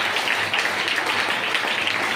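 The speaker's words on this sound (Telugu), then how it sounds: "చప్పట్లు కొట్టండి ఒకసారి గట్టిగా" A church congregation claps loudly together, a dense, steady burst of applause lasting a couple of seconds with no voices over it.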